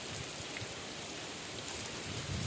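Light drizzling rain falls outdoors on a cloudy day, a faint, even hiss of fine drops pattering on surfaces, steady and continuous with no voices.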